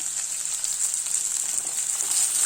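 Onion and about twenty garlic cloves sautéing in a pan for garlic chutney, a continuous bright high sizzle with little variation, steady and close, no voices.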